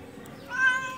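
A human voice imitates a cat's meow, giving a single short, rising and falling meow in the second half, fairly close and clear, with no other talk.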